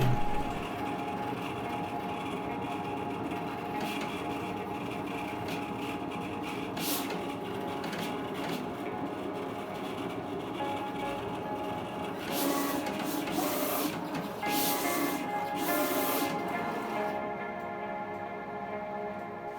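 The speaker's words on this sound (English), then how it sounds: "Here's the video of the sticker cutter finishing the job at normal speed." A vinyl sticker cutter hums and whirs steadily as it cuts stickers, with a continuous mechanical drone broken by quick bursts of clicking movement. There is no talk.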